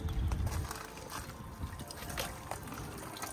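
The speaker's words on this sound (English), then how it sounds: "I'm actually going to open up our gray tank, our gray water tank, which will drain down into the ground." Gray water drains from a camper's gray tank onto a dumping grate at a Scottish campsite, a steady trickling flow that starts strongest and continues evenly, close by with no talking.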